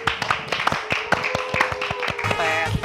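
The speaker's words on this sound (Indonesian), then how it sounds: "Beri tepuk tangan yang meriah untuk Princess JJ" A talk-show studio audience claps to welcome a guest, quick rhythmic hand claps from a small group close by, with a voice faintly entering at the end.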